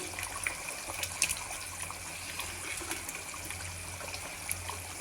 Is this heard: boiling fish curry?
yes